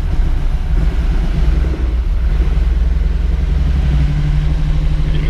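A 1973 Lamborghini Espada Series III engine idles slightly rough, missing on cold cylinders, with a loud, deep, continuous rumble heard up close.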